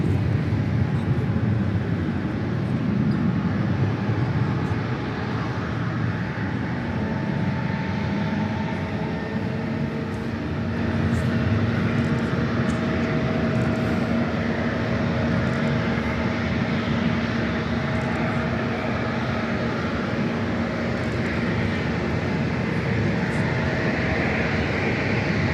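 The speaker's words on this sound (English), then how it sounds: "American A321 up next for takeoff on 19er." An American Airlines Airbus A321 taking off on runway 19 at LAX: a sustained, broad jet-engine roar holding steady for about 25 seconds, with a faint dip midway and no talking.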